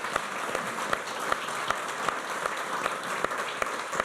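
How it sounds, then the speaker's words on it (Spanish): Steady applause from an audience at an award ceremony, dense clapping that holds evenly throughout with a few sharper claps standing out. "Los aplausos también cuentan tiempo"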